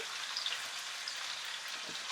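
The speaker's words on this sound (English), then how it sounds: "See, it's frying" Steady, crackling sizzle of pork frying in a pan, fairly quiet and close, with no voices.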